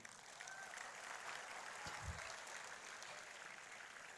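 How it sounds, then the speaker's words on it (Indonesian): Applause from the audience at the opening ceremony of the Invirotech Expo 2026, greeting the Environment Minister, a steady wash of clapping throughout with a brief thump partway through. "Tepuk tangan buat Pak Menteri"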